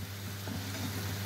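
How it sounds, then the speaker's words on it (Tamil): Vatha kuzhambu with appalam and sambar powder simmers in a pan, giving a quiet, steady bubbling sizzle over a low hum, with no voices. "வெத்த குழம்பு நல்லா கொதிக்கட்டும்."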